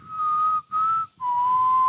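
A single person whistles a steady, pure, sustained tone, broken by two short pauses and then dropping slightly in pitch for the final long note, close and clear with no talking.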